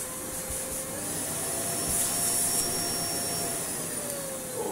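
Old bagless vacuum cleaner from a job lot running steadily on variable speed control, a loud continuous motor whine and airflow rush with a faint rising pitch near the end, no talk.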